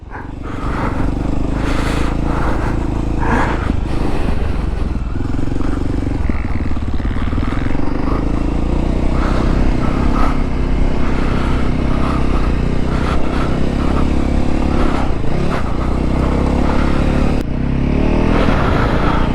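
A 2023 Voge 300 Rally motorcycle engine runs continuously while riding, a steady loud drone with rising and falling revs and wind noise throughout, with no talking.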